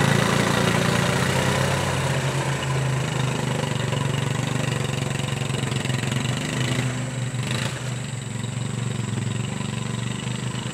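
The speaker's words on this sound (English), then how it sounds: "He loves that four-wheeler. He just kind of putts along." A four-wheeler ATV engine putts along steadily at low revs, a continuous close rumbling drone with little variation across the whole stretch.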